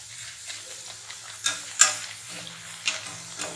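Aloo puri fries in hot oil as oil is splashed over the dough, a soft sizzle broken by sharp little pops and ladle taps, close and fairly quiet.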